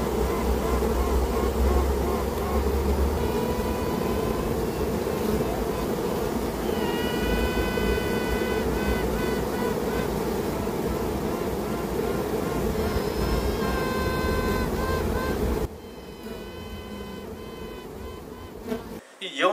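Inside a beehive in late July, a queen bee pipes in several rising, tooting bursts over the dense, steady hum of the colony. The buzzing stays loud throughout and drops in level near the end.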